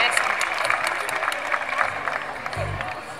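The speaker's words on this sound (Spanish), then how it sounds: "un aplauso para la reina y nuestro corte de honor de este año" A crowd at a 2017 cueca folk festival applauds the queen and court of honour, dense sustained clapping and scattered cheers filling the space, with a voice speaking over the clapping.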